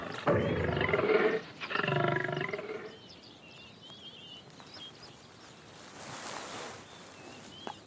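A lion in the Masai Mara lets out two deep, loud, drawn-out roars close by, followed by quieter rustling ambience and distant bird calls.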